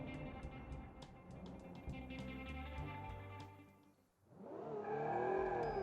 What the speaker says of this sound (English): As you can see, the car accelerates really nicely